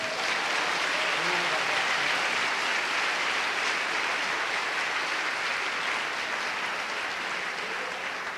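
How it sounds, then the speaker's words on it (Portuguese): A church congregation claps steadily and evenly throughout, a dense, soft wash of applause without pause at a moderate distance. "dê um aplauso ao Senhor"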